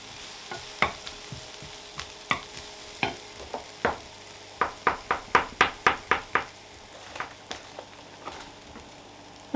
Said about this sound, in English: Keep an eye on the onions and give them a stir around now and again.